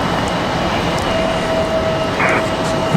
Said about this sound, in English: I almost didn't think that E175 was going to make it